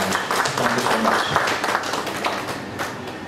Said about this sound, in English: Can we have a round of applause for Mahesh?